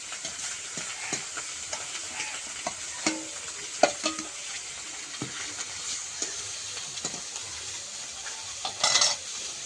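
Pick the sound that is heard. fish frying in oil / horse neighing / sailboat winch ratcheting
fish frying in oil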